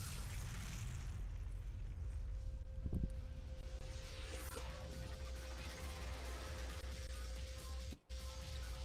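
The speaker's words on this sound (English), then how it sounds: "That was also a very disproportionately small explosion." A small explosion in the video game Devil May Cry 2, involving a demon-possessed tank. A short, low boom lands in a steady rumbling game soundscape with a faint hum, and the level drops out briefly near the end.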